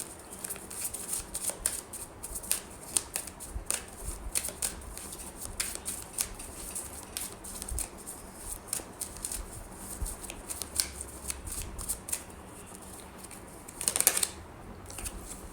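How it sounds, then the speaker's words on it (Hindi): Tarot cards are shuffled by hand in a long, steady stream of close, quiet riffling flicks and soft taps, ending in a louder, denser burst of shuffling, with no talking. "आपके सामने मैंने कार्ड शफल करके निकाला है"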